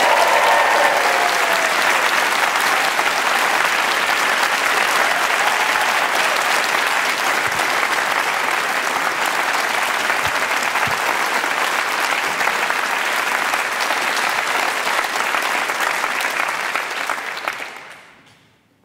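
A concert audience at a live show bursts into sustained, dense applause and cheering that holds steady and loud for most of the stretch before fading away at the very end.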